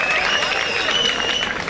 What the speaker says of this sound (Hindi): ताली जोरदार बजाइए आप लोग